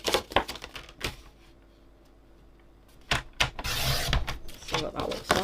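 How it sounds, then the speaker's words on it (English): A paper trimmer cutting through a card blank, with clicks and thumps of positioning, then a sustained rough slicing sweep near the end, close by, with a voice speaking briefly. "And we'll put it right to the top and just trim the bottom off."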